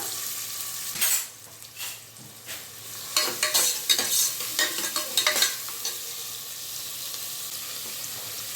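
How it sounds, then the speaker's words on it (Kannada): Chopped onions tipped into hot oil for a tempering, giving sharp bursts of sizzling and stirring clatter near the start that settle into a steady, softer fry. "ಈರುಳ್ಳಿನ ಒಗ್ಗರಣೆಗೆ ಕಟ್ ಮಾಡಿ ಎತ್ತಿಟ್ಕೊಂಡಿದ್ದೀನಿ ಅದನ್ನು ಹಾಕೊಂಡ್ಬಿಡೋಣ"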